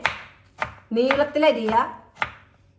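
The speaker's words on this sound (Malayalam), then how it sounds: "ഇങ്ങനെ ഒന്ന് വട്ടത്തിൽ അരിഞ്ഞെടുക്കുക" A knife slices banana flower into rounds, several crisp separate chops on a board with a squeaky tonal rub between them, close and fairly quiet.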